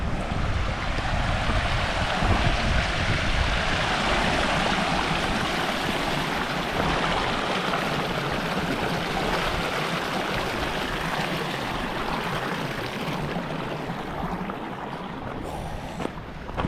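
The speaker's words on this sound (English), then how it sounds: "Another wee river crossing. Let us try and pick our way across." Rushing Scottish river stream in the open wilderness, a steady close broadband roar of flowing water with some wind noise, continuous throughout with no talking.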